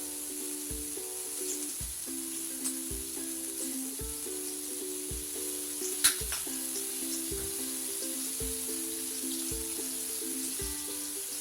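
Steak sizzling on a hibachi-style griddle with soy sauce added, a steady quiet hiss of frying alongside a regular ticking pulse and one sharp louder crackle midway.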